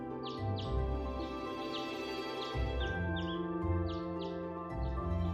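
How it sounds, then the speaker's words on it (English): Ambient birdsong from the video game Trails of Cold Steel: quick, bright chirps and tweets repeat every second or so over a continuous, moderately quiet musical background. "Got the birds chirping."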